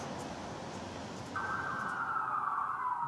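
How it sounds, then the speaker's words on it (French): An ambulance siren sounds outside a public hospital, a rising wail that starts midway and holds a high sustained tone over steady background noise, moderately distant. "Des ambulances dont les sirènes ne se taisent jamais"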